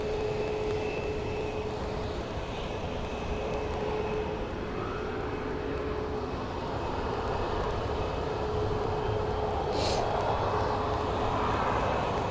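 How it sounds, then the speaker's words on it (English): A little Delta Connection Embraer jet bound for LAX roars steadily at Phoenix Sky Harbor, its broad engine noise sustained and fairly strong throughout, with no talk over it. "next up is a Delta Connect headed to LAX. It's a little Embraer."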